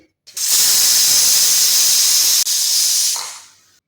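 A pressure cooker holding tomatoes, carrot, garlic and onion vents steam on full gas: one loud, close, sharp hiss lasting about three seconds, broken by a split-second gap, then tapering off.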